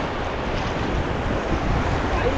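River rapids rush and splash continuously around a bouncing rafting boat, a dense, loud wash of water noise mixed with wind buffeting the microphone.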